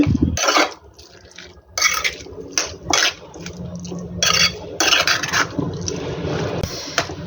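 Hot sweet corn is stirred with masala in a bowl, a spoon scraping and clinking against the dish in several short bursts at close range.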